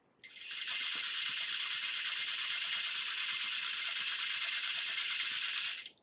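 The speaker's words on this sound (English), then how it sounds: "I am going to continue stitching down my swatch with an even, consistent seam allowance." A sewing machine stitching down a zipper swatch, a steady, fast, even mechanical rattle that starts abruptly, runs for about five seconds at constant loudness, then stops, close and alone with no talk.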